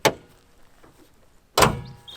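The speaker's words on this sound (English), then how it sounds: "And you can close the hood." A car hood is shut: a brief knock, a pause, then one heavy, close slam with a short metallic ring afterward.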